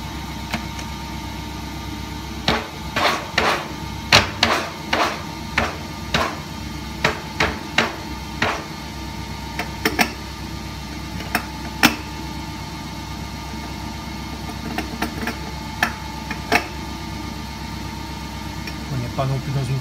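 A machine works on an aluminium disc, drilling holes at 2000 rpm, heard as a steady motor hum with a series of sharp, knocking hits spaced irregularly throughout.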